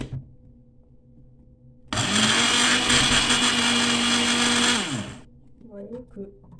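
A kitchen blender whirs loudly as it purées tomatoes with a splash of water for gazpacho, starting abruptly, holding a steady high-pitched motor roar for about three seconds, then winding down to quiet bumping.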